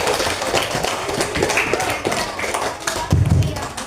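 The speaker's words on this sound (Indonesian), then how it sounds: "Kita kasih aplaus dulu buat kelima kelompok." A classroom gives a round of applause for five student groups: steady, busy clapping from many hands close by, with faint voices mixed in underneath.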